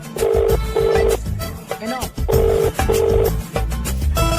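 A phone rings with an incoming call, sounding as two pairs of short, bright beeping tones over busy background sound and voices.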